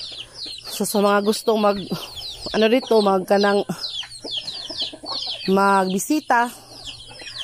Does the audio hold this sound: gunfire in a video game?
no